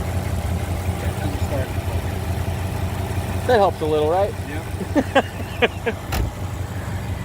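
A restored 1956 Ford Thunderbird V8 idles smoothly and quietly in neutral, a steady low rumble running beneath nearby people chatting.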